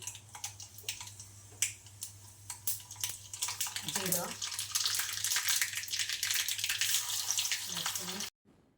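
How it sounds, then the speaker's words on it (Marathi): Mustard seeds, cumin, garlic and curry leaves crackle and spit in hot oil for a lentil amti tempering, close-up sizzling with sharp popping bursts and clicks building into a dense fry before cutting off abruptly. "तेलामध्ये मोहरी जिरं लसूण कढीपत्ता कांदा छान परतून घेतला"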